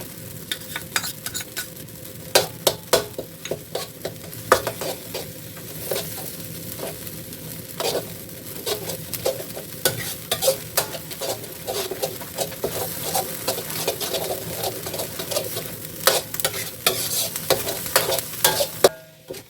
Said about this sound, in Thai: กะทิของเราแตกมันแล้วนะคะ จะสังเกตได้ว่าจะเป็นน้ำมันเยิ้มๆอยู่ข้างๆนะคะเราก็จะใส่พริกแกงลงไปถัดเลยค่ะ